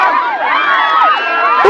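A large crowd at a Duterte political rally in the Philippines shouts and cheers loudly and continuously, many voices overlapping in a close, dense roar that swells near the end.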